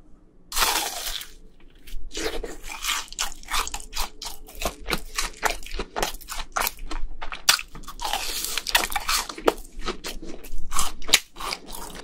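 Crunchy bites of a fried brain cheese ball, close and loud, with repeated sharp crackling crunches and wet chewing that continue steadily throughout, with no talk.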